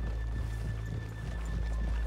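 A horse in Red Dead Redemption 2 neighs briefly amid clip-clopping hooves, set against a steady low rumble.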